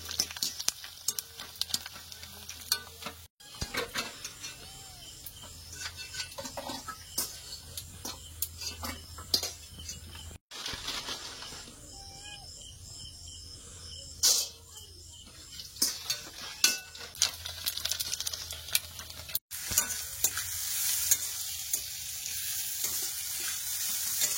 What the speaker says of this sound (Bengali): আর সামান্য তেল দিয়ে এখন এগুলোকে ভেজে নিচ্ছি